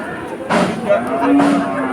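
A cow gives a loud, close, drawn-out moo at the Monirampur cattle market in Bangladesh, rising over the busy murmur and voices of the crowded livestock trading ground.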